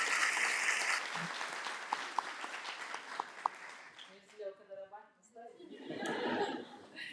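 Applause for the mayor at a Women's Day staff gathering, a burst of clapping and cheering that fades, followed by a voice speaking, with the clapping swelling again toward the end.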